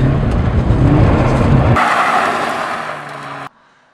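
A Toyota GT86 sports car roars loudly nearby with tire squeal, then the engine note shifts and fades before cutting off abruptly, with no talking.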